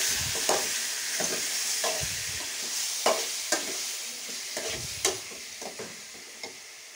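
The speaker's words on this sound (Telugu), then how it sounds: "ఇప్పుడు చికెన్ని కలుపుకుందాం" Chicken pieces stirred through a hot pan, with a steady bright sizzle and repeated scraping strokes of a spatula every second or so, close and alone without voices.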